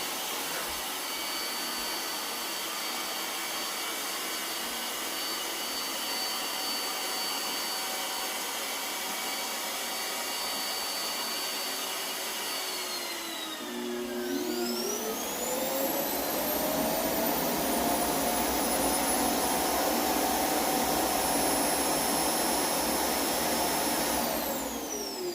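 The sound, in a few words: iRobot Roomba S9+ self-emptying dustbin at its docking station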